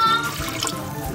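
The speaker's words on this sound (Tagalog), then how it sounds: "Kung kaano kadaming tubig ang gusto nyo para sa sabaw." Water runs and splashes into a cooking pot while soup broth is made, a steady pouring stream with a few drips, close and moderately loud, no speech.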